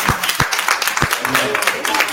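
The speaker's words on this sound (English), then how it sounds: "Keep clapping." A church congregation at a convocation clapping and applauding, a close burst of claps mixed with voices speaking over the crowd.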